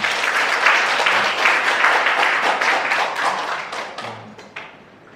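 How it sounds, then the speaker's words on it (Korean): Dense, sustained audience applause fills a hall at a teacher training session on Jeju 4.3 and Yeosu-Suncheon peace and human-rights education, loud and steady, then thinning toward the end. "함께 박수 한번."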